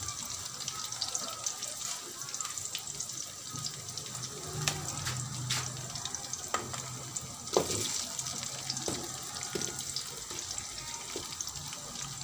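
Garlic and onion sizzling in a pan for homemade chicken pochero, a steady close hiss with scattered crackles and pops, no voices.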